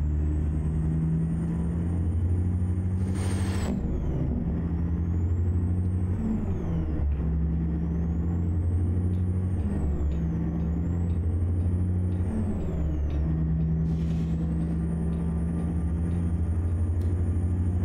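A Ford LTL 9800 truck pulling a dump trailer rolls downhill in American Truck Simulator, its engine a steady low drone that rises and falls as it gathers speed, with a brief air-brake hiss near the start.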